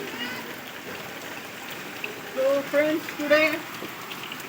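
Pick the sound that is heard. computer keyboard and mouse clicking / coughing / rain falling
rain falling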